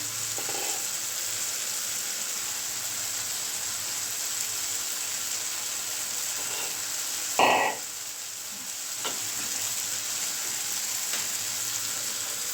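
Tomato gojju frying in oil in a pan gives a steady, close sizzle throughout, broken by one sharp scrape or clatter of a utensil near the middle and a few faint ticks.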